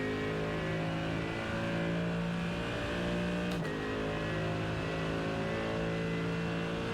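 A Mercedes GT3 race car engine roars at high revs around Road America in a racing game, a sustained loud drone with brief shifts in pitch and a short dip midway.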